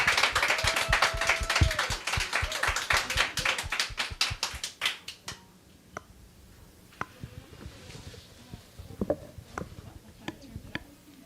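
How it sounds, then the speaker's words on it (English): A small audience claps for Dr. Aleia Brown at a talk about contemporary quilts by Black women, a brisk burst of close clapping that fades after about five seconds into a few scattered taps and knocks. "let's have a round of applause for Dr. Aleia Brown"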